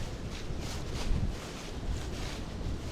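Wind blows across a farm during a power outage, a steady rushing buffet against the microphone with gentle surges and no voices.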